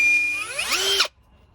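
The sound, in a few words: power drill drilling holes in car center console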